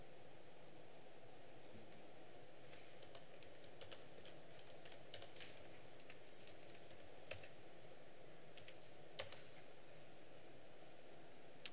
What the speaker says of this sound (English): How am I doing with my typing?